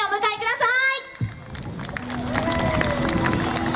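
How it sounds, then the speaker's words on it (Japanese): At a Mizuho summer festival stage in 2019, a voice speaks briefly before a crowd breaks into a broad, sustained wash of applause and cheering that fills the rest. "皆さん大きな拍手でお迎えください。"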